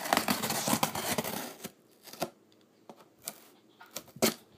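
A screwdriver used as a box opener slices through packing tape on a security panel shipping box, giving a dense scraping, tearing rasp for over a second, then a few sharp separate snips and clicks spaced apart, close and fairly quiet.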